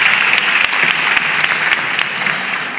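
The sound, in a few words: applause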